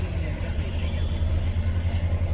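A double-engine train running on a Nashik-area railway line, a steady deep low rumble with continuous engine drone throughout, fairly close and even in level.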